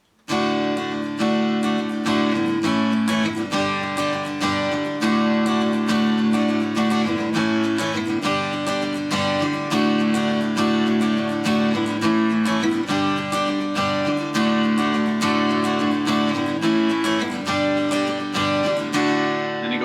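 An acoustic guitar strums a repeating chord progression, steady rhythmic strokes cycling through a few chords starting on D, close and continuous with no talking.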